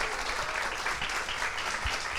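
A short burst of audience applause for actress Vilma Mello at a panel event, a steady, close wash of clapping with no break.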